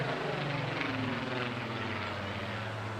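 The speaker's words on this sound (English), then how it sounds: "you can hear the growl. It's a very distinctive sound compared to the Merlin engine." A steady, throaty aircraft piston engine drone with a deep low rumble at an air show, continuous and fairly close throughout, no talking.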